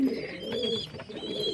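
Domestic pigeons in a loft coo softly and close by, a few throaty, rolling calls overlapping in a short burst.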